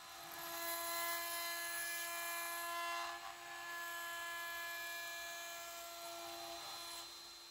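A Sainsmart 3020 Pro Ultra CNC router with a single-flute 2.5 mm bit at roughly 20,000 RPM mills acrylic, giving a steady high-pitched whine with sustained tonal hum and slight variations as the cut progresses.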